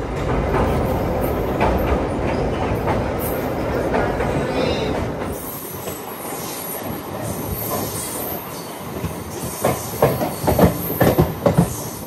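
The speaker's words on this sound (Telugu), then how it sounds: "బొబ్బిలి జంక్షన్ నుంచి అయితే మన ట్రైన్ స్టార్ట్ అయిపోయింది" A moving MEMU passenger train from Bobbili Junction rumbles steadily with squealing wheels and rhythmic clattering over the tracks, growing more uneven and jolting toward the end.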